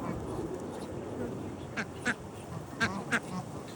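Ducks, including a wood duck and ducklings, at a duck pond give a few short quacks in two spaced pairs, moderately close, over a constant background murmur.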